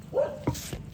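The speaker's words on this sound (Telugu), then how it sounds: "కోతులు వచ్చాయి, కుక్కలు అయితే అరుస్తున్నాయి చూసారా." Dogs barking in a short, sharp burst of a few yips and barks, moderately close, with a whimpering tone at the start, outdoors on a village homestead where monkeys have arrived.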